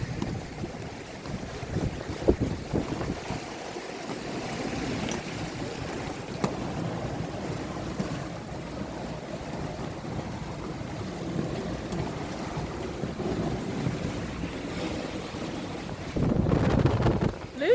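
A sailboat running fast in strong wind off the coast near Plymouth, with steady rushing wind noise buffeting the microphone and water swishing past the hull, swelling louder near the end.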